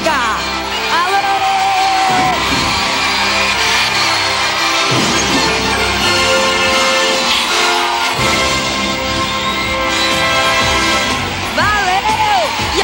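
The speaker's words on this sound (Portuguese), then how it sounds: "É a equipe azul que recebe os aplausos da galera" A studio audience at a Brazilian TV talent show cheers, whoops and applauds for the blue team, a loud, continuous crowd roar with shouts rising over it and a voice calling out in between.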